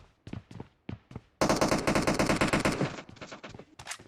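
Automatic gunfire in a shooter video game rattles out as a loud, rapid burst lasting over a second, preceded and followed by several single sharp shots.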